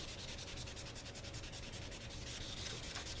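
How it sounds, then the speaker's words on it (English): Wood filler on a gun stock being sanded by hand with light pressure, a steady rapid rasping rub repeated in quick back-and-forth strokes, close and continuous with no talk. "You don't have to sand hard."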